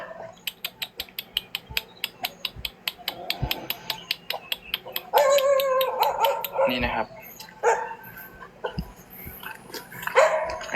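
Several dogs at a Buddhist temple in Thailand bark in rapid, repeated bursts, fairly close, with yips and whines mixed in while people talk over them.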